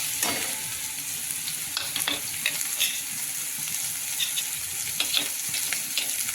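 Bottle gourd sizzling in a hot pan while being stirred, a continuous near fry with irregular spatula scrapes and taps, no talking.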